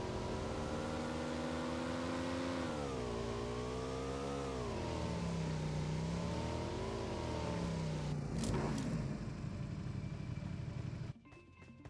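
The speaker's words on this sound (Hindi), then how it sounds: "अब एक बंदा गाड़ी लेकर मेरा पीछा करने लग जाएगा।" Vehicle engine in PUBG Mobile, a steady droning motor with rising and falling revs as it drives, loud and continuous with a brief clatter near the end before cutting off.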